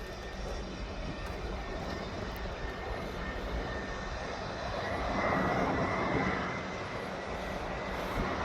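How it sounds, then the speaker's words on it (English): A Lufthansa Airbus A319 from Munich passes overhead on arrival at Birmingham airport, a steady distant engine roar that swells gently midway and then eases, with no voices. "Lufthansa A319 from Munich."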